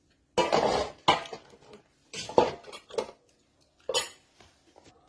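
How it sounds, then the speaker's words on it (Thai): Minced pork dry-frying in a pan, with loud bursts of metal utensil scraping and clattering against the pan in several separate strokes, close up and with no talking. "สับแล้วเราจะไปคั่ว คั่วให้สุกนะคะ"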